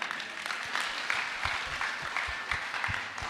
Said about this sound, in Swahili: Simumpigie ndugu makofi